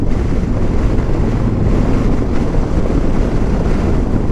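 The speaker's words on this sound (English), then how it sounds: "Super wind over here." Strong, steady wind roars across the microphone while riding a 2022 Harley-Davidson Tri Glide CVO on a demo ride at Daytona Bike Week, a constant loud rushing with no talk.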